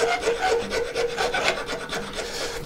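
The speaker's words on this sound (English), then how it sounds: "I'm going to use the file here on this inside shape" A file rasps against the inside curve of a hand-carved wooden letter opener in quick, steady back-and-forth strokes, loud and close, with no voices.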